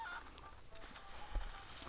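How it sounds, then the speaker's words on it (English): A cuckoo chicken in the Nintendo DS game Zelda: Phantom Hourglass gives a short honking, goose-like squawk near the start, then quieter game sounds follow. "if we get this cuckoo here and tap it, we can use it for chicken slavery"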